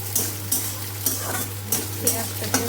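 Onion fries in a pan for ghugni, a steady sizzle under a low constant hum, with a spoon stirring and scraping against the pan at regular intervals.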